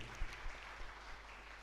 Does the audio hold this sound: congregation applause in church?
yes